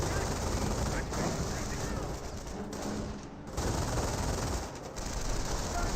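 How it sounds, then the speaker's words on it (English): Light machine gun from Company of Heroes firing in sustained dense bursts, a steady loud battlefield clatter with brief lulls, spoken commentary running over it. "LMG now firing away with Knights Crossovers here support"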